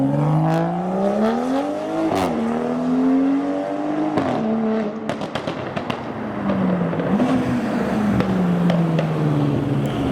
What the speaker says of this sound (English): Someone's doing a burnout.